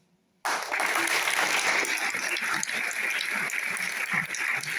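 Loud sustained audience applause at a French financial-article award ceremony breaks out abruptly after a brief quiet, dense steady clapping from a large crowd.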